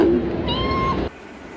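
A man imitates a kitten with one drawn-out, wavering meow that sounds close and clear over a steady background hum, outdoors at night, then stops abruptly.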